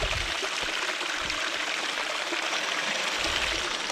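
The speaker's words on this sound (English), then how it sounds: "Anyway, here's the water." Water flowing in Slaty Creek, a steady broadband rush with trickling detail, close and continuous, with a few low bumps and no talking.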